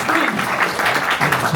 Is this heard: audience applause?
yes